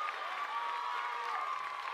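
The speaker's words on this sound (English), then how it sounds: "And the crowd is loving it" Crowd at a Wisconsin versus Indiana college softball game cheers and applauds a play, a steady distant wash of clapping and shouts with whistle-like tones over it, and no voice in front.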